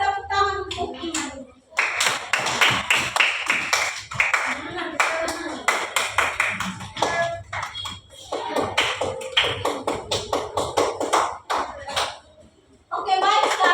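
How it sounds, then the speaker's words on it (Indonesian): Young schoolchildren in a second-grade class break into quick, scattered applause for a classmate's correct answer, with bursts of clapping rising and falling between stretches of a teacher's talk. "Betul sekali, tepuk tangan untuk Iman."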